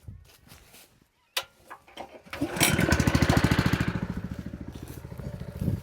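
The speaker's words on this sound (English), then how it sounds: "I have to turn the pump back on" A small pump engine starts after a few clicks and knocks, then runs with a fast, even chugging putter close by, refilling a DJI Agras T100 spray drone.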